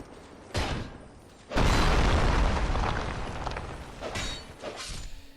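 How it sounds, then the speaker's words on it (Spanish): Video game explosions thump and roar in bursts: a short boom, then a larger blast with a long rumbling, crackling tail, followed by further smaller pops and debris sounds. "podemos encontrar hasta caminos o cofres secretos gracias a una explosión accidental."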